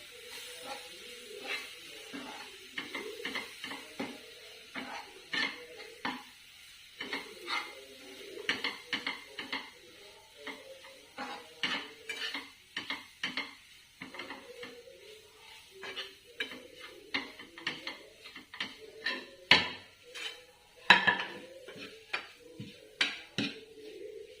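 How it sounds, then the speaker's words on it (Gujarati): A spoon scrapes and knocks steadily through a sweet pan laddu mixture in a pan with the gas flame turned off, giving repeated close, quiet clinks and scrapes in an uneven rhythm, alone with no speech. "હવે આપણે એને સારી રીતે મિક્સ કરી લઈશું"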